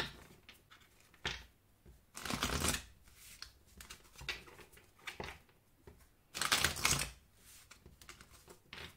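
Oracle cards being shuffled by hand, with soft, papery riffles and flicks that swell into two louder bursts of rapid card shuffling between quieter handling, heard close up with no talking.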